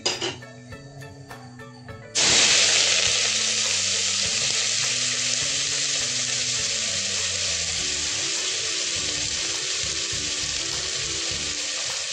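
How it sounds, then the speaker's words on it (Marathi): Bay leaf and cinnamon dropped into hot oil in a cooker burst into a loud, steady sizzle that starts abruptly and keeps frying on without a break, with faint stirring underneath. "तेल चांगलं आपलं गरम झालंय। तर त्याच्यामध्ये तेजपान आणि दालचिनी टाकते मी"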